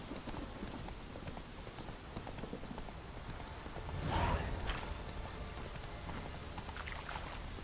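Horse hooves clip-clop steadily while riding in The Witcher 3 video game, a continuous trotting rhythm over a broadband ambient wash, with a brief louder swell midway.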